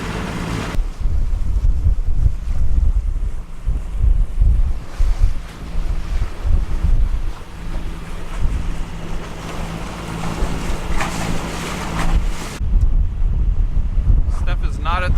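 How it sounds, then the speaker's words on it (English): Strong wind buffets a sailboat crossing a strait in the San Juan Islands in rough, choppy conditions, with loud steady wind roar on the microphone and waves rushing against the hull. "It's pretty windy and snotty today going across."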